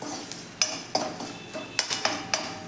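Spoon clinking and scraping in a pan while turmeric is mixed into roasting green chillies, a handful of sharp metallic taps spaced irregularly over a soft background, close and fairly quiet.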